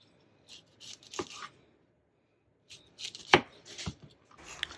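An onion is being sliced on a cutting board in a home kitchen, giving a few short bursts of crisp knife cuts separated by pauses, with sharp taps where the blade hits the board, close and quiet.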